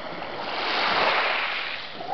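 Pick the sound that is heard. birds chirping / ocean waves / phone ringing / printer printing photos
ocean waves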